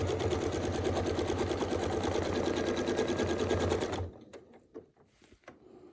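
A sewing machine doing free-motion quilting stitches runs steadily and close for about four seconds, then stops, leaving a few faint clicks and handling noises.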